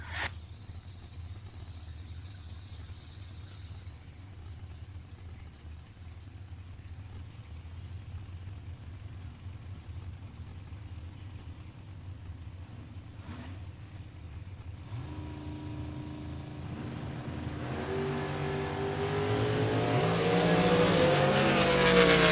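A Malibu drag race car at a drag strip starts as a low, distant drone with brief sharp noises, then its engine swells into a loud, rising roar as it accelerates down the track over the final seconds.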